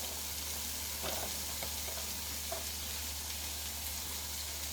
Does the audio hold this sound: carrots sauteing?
yes